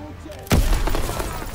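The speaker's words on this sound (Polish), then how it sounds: "Tutaj ten granat wybuchł." A grenade explodes in Call of Duty: WWII with a sudden heavy blast after a quiet moment, followed by a rumbling, crackling tail.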